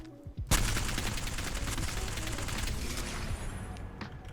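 Rapid automatic gunfire from an R9 weapon in the video game Apex Legends, a sustained close burst of shots starting abruptly and running for about three seconds before tailing off.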